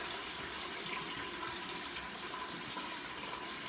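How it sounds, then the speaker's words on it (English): Water runs steadily into a cooking pot as it is filled about a third full for a pack of beans. The stream is a constant close rushing sound with no talking. "I'm filling this pot up with about 1/3 of water for that 1 pack of beans"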